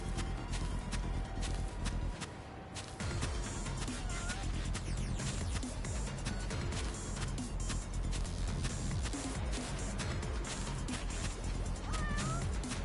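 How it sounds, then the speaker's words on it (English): Cat meowing within the video game Yakuza: Like a Dragon, a few short mews rising over a busy, constant bed of game ambience and footsteps, with a voice speaking across it. "I hear a kitty, so I'm glad I came in here."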